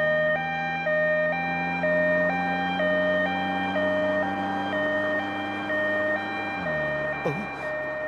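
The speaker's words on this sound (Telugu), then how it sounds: "అంబులెన్స్ వస్తుంది." An ambulance siren wails in a steady alternating two-tone pattern over a low engine rumble, loud and sustained, with the pitch dropping sharply near the end as it passes close by.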